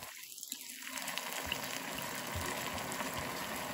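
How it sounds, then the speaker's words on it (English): White wine poured into a hot pan to deglaze it for vegan French onion soup, a steady liquid pour that rushes into a broad, continuous hiss and bubbling sizzle, close and even. "I'm gonna go ahead and deglaze my pan. So in goes about 1 cup of white wine."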